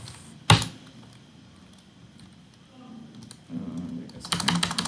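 Keys clack on a computer keyboard while C code is typed: one sharp loud keystroke early, a quiet lull with faint taps, then a dense burst of quick typing at the end.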